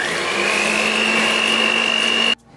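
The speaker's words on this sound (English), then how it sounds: "So I'll be using a hand mixer." Hand mixer whisking an egg mixture for a vanilla hot milk sponge cake, a steady high motor whine running loud and unbroken before cutting off abruptly near the end.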